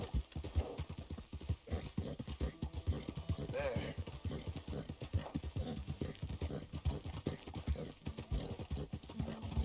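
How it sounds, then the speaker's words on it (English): A horse in the Red Dead video game gallops in a steady, rapid clip-clop of hooves that continues throughout, with a brief whinny partway through and game sounds in the background. "I'm going to start galloping"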